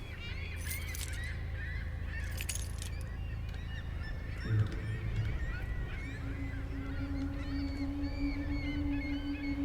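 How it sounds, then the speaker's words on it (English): Seabirds, presumably gulls, cry out with repeated honking calls within the game The LightKeeper, set against a steady low ambient rumble, with a sustained tone entering partway through. "Now the birds are crying out for one dead seagull."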